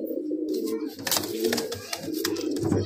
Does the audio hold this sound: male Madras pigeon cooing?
yes